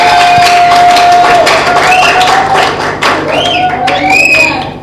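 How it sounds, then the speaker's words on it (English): Loud clapping and cheering from a church congregation, dense rhythmic claps and shouts of praise filling the space, with voices calling out over the noise. "Can we give a clap offering unto Jesus?"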